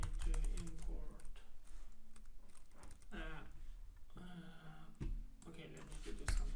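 Computer keyboard typing in quick, uneven bursts of clicks and key taps, close and fairly loud, with short pauses between runs and no speech.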